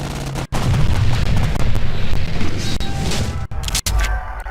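Aircraft attack in the KARDS WWII card video game: loud booming explosions and gunfire rumble continuously, with a few abrupt cuts and a final heavy blast.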